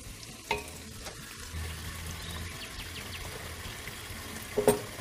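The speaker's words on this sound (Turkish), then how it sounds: "Şöyle bir kavuruyorum, karıştıracağım." Onions, butter and tomato paste sauté in a pan with a soft, steady sizzle, the utensil scraping faintly as it stirs, with a couple of sharper knocks near the start and end. No one speaks.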